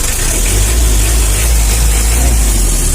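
A Mitsubishi L300 diesel engine idles close by, a steady, dense low rumble with a constant clattering texture and no breaks, no voices over it.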